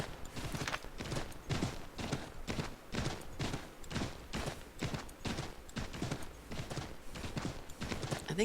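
Rhythmic clip-clop of a horse's hooves at a steady trot in Assassin's Creed III, clear and close, repeating evenly throughout.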